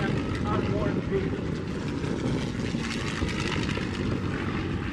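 A propeller-driven warbird airplane flies past at the Oshkosh AirVenture airshow, its steady engine drone loud and continuous throughout, with a commentator's voice talking over it.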